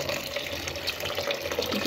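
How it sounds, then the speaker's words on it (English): Cold tap water pouring steadily over drained spaghetti, a continuous splashing rush from close by with no talk. "So I want to add in the cold water to stop them from cooking."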